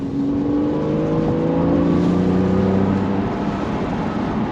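Engine of a 2013 Porsche 911 Carrera 4S Cabriolet with PDK gearbox and Sport Chrono, running loud and steady while accelerating, with rising tones that step quickly between gears.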